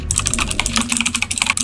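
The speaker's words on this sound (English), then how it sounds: "Furious typing." Rapid, furious typing on a computer keyboard, a dense run of crisp clicking keystrokes close to the microphone with a faint low hum underneath and no talking.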